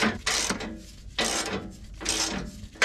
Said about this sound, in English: The 2 bolts in the back are gonna come out.